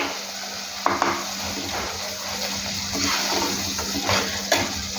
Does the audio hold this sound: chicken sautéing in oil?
yes